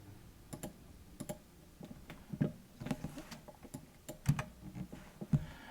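Soft keystrokes on a computer keyboard come in short irregular bursts of crisp clicks, quiet and close, with brief pauses between the taps.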